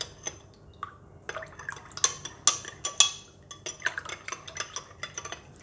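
Ingredients for a pork rib sauce are stirred in a bowl with a utensil, giving a run of light clinks and scrapes with wet, sloshing touches, close and fairly quiet.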